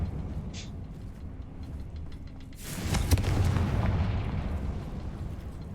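A Confringo fire spell explosion in Hogwarts Legacy, a sudden rumbling blast bursting in midway after a quiet stretch, then a rolling, crackling boom that lingers to the end.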